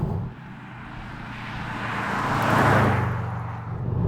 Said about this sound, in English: could you please hop into the comment section and tell me this is the noise of a Subaru?